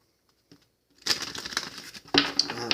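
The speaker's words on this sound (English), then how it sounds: "So let's shuffle the cards." Tarot cards are shuffled close up, starting with a couple of faint taps. After about a second comes a continuous papery riffling and rustling, with a sharper flurry near the end.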